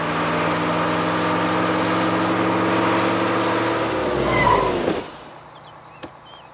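A car speeds along a road to overtake a bus, its engine holding a loud, steady roar for several seconds before dropping away sharply, followed by near quiet and one faint knock.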